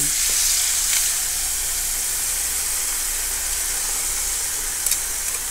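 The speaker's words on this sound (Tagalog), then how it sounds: "lutuin din po natin yung kabila ng siguro mga 3 minuto katulad nung una" Pork ribs frying in a pan, giving a steady, dense sizzle and hiss from start to finish, close and loud, with a few faint clinks near the end and no speech.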